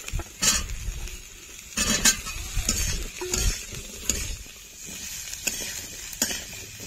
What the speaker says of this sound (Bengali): আলুটা ভাজতে ভাজতে যখন প্রায় সেদ্ধ হয়ে আসবে, এই দেখুন, তখনই কিন্তু এই ডাটাগুলো দিতে হবে